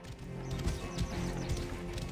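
Steady rhythmic clip-clop of horse hooves trotting at an even pace in the game Assassin's Creed Origins, fairly close, with no talking.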